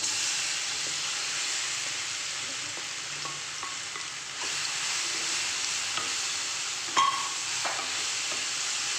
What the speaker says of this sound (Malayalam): ഈ നെയ്യിലേക്ക് പഴം എടുത്തിടുന്നുണ്ട്.